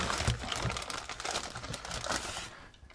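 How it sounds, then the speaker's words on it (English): Painter's tape crinkles and crackles as it is pressed and wrapped around the bezel of a TI-74 or TI-95 calculator, a close, busy rustling that continues for about three seconds. "you can tape around it with some painter's tape and then polish it"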